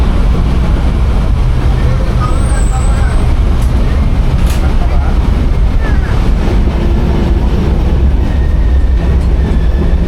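Steady, loud rumble and rattle fill the cabin of a moving passenger train, a continuous wheel-and-track roar that never lets up across the whole stretch.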